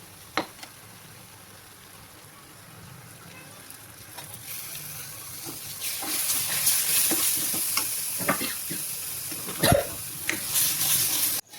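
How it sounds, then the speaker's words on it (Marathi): Tomato paste frying in hot spiced masala for paneer masala, a soft steady sizzle that builds and grows louder midway, with stirring scrapes and a few sharp clicks of the spoon against the pan. "लगेच आपण यात आता हे आपली टमाटरची पेस्ट सोडू"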